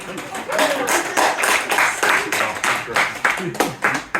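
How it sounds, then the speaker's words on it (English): A stand-up comedy audience claps and applauds in a steady patter while the comedian keeps talking over it. "Get some applause before I've finished."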